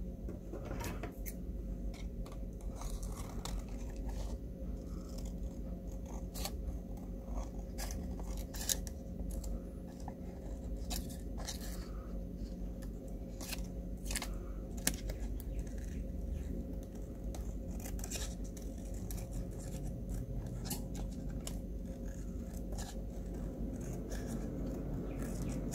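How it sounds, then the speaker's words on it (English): Quiet snips of scissors cutting around the outside of a paper Christmas craft, a series of small crisp clicks spread over a soft room background. "I'm going to cut around the outside."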